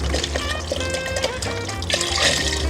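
Chicken broth poured into a pot of New Orleans gumbo, a continuous close liquid splashing and gurgling lasting a few seconds.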